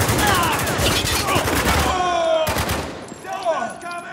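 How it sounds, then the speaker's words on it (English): Intense gunfire in the third-person military shooter Spec Ops: The Line, with rapid automatic bursts and single shots crackling near and loud, along with ricochet whines and soldiers shouting over the firefight. "Now open fire!"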